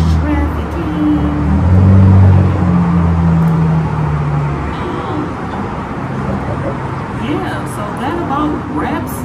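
Miami street traffic rumbles past with low engine drone and passing cars, loudest early and then easing to a steady wash of road noise, with a voice mixed in.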